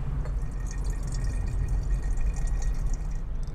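Water poured into a container, a soft, continuous trickle and splash under a faint steady background hiss, with no voices.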